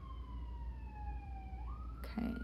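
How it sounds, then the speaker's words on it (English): An emergency vehicle siren wails outside, a steady tone gliding slowly downward before jumping back up. It is moderately loud and somewhat distant, heard alone, and ends with a short burst of noise. "Okay, sorry about the sirens,"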